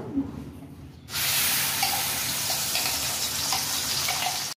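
Spice paste hits hot ghee in a kadai for shahi paneer, erupting into a loud, steady hiss of sizzling that starts abruptly after a quiet second and holds until it cuts off.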